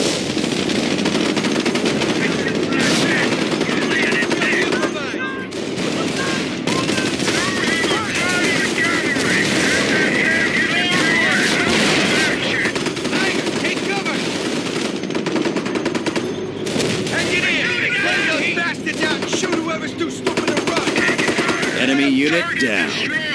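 German machine-gun fire and shelling pound a forward emplacement in the World War II game Company of Heroes. Dense, continuous bursts of rapid gunfire and blasts fill the whole stretch, with voices talking over the battle.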